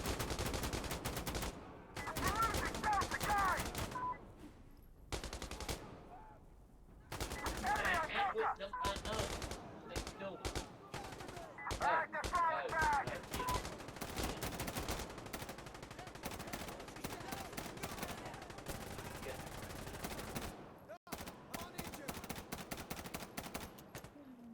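Gunfire in the video game Insurgency Sandstorm crackles in rapid automatic bursts and single shots, broken by short pauses, with occasional talking mixed in.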